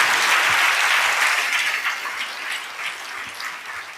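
A church congregation claps together during a sermon, a dense, steady burst of applause that holds for several seconds and slowly thins toward the end.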